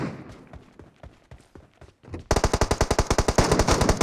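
Rapid automatic gunfire from a squad battle video game, starting with scattered shots and then breaking into a loud, steady burst of evenly spaced rounds that runs to the end.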